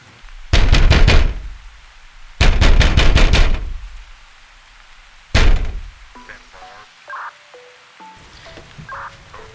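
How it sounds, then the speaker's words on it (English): Loud rapid knocking on a door comes in three bursts, two of several quick raps and a final single heavy knock, followed by faint electronic beeps. "Is that somebody knocking?"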